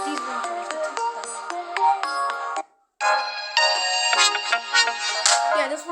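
Samsung Galaxy A03 phone ringtone, a bright electronic melody of chiming tones that plays loud and clear, stops briefly, then resumes with a busier phrase.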